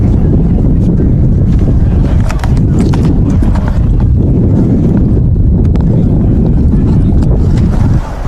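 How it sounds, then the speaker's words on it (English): Heavy wind buffets the microphone at an outdoor high school football game in a constant low rumble that swamps everything else, with faint voices buried beneath it. "Like I said, very windy today."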